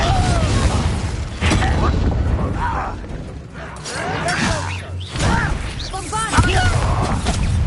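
An Incendio fire spell is cast in Hogwarts Legacy amid loud combat, with repeated booming whooshes and crashing impacts. Game voices and grunts sound in between the blasts.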